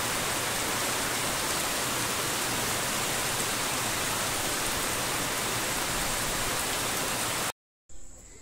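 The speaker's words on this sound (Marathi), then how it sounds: "जोरदार पाऊस चालू" Heavy monsoon rain pours down in a dense, loud, unbroken hiss for several seconds before cutting off abruptly near the end.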